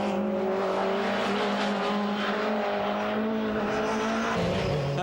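Supertourisme touring cars race at the Lédenon circuit in 1997, engines roaring loudly and continuously down the pit straight with rising revs and a hint of tire squeal.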